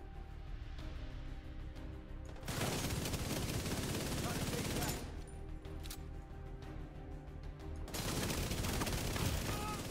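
Gunfire in The Division 2 video game comes in bursts of rapid automatic fire, a loud sustained barrage, a gap, then another heavy volley, with quieter sporadic shots between.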